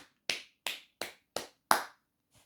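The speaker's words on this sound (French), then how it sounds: "Je vous applaudis." Five crisp, evenly spaced hand claps ring out alone in a quiet room, followed by one much softer clap.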